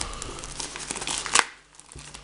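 Plastic wrap film on an anime DVD box is crinkled and torn, giving a short burst of close crackling with one sharp rip, then a brief quiet.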